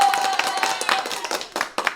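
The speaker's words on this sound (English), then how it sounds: "Give me a hand clap." Several sharp hand claps in an irregular burst, fairly close and moderately loud, with a faint steady tone in the background.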